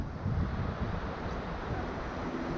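Gusty wind roars steadily across the microphone throughout, a dense broadband rush with surging buffets while a Parrot Mambo FPV drone flies in strong wind.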